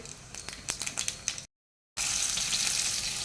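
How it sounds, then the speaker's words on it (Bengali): Bay leaves, dried chillies and black cumin hit hot oil: scattered crackles and clicks, a brief cut to silence, then a loud, steady, close-up hiss of sizzling. "তেলটা গরম হয়ে গেছে, তেজপাতা, শুকনো লঙ্কা, কালো জিরে"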